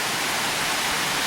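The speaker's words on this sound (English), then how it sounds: "By the way, it's raining now," Tropical rain falling as a steady, dense hiss of drops, continuous and even, with no voices over it.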